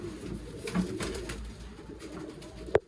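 Old line pigeons stir and softly coo nearby as they are let out, with low murmuring calls, a few faint flutters and one sharp knock near the end.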